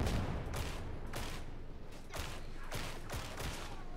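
Gunfire in the video game Warhammer 40,000: Darktide sounds as a faint, steady series of muffled shots, roughly two per second, over a continuous low background rumble.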